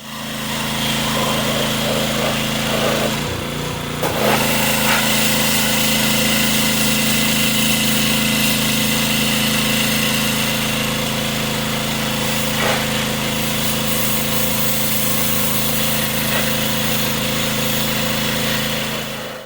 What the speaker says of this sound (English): take it out and hit it with the pressure washer